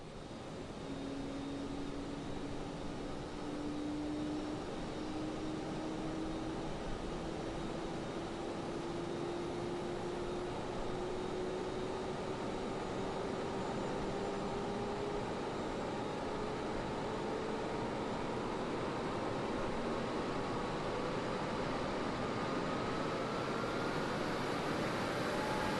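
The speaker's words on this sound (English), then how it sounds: "there's your APU sounds" Auxiliary power unit of an FSLabs A321neo airliner in a flight simulator, a steady loud whine and broadband roar that holds throughout, with a tone slowly rising in pitch as it spools, no talking.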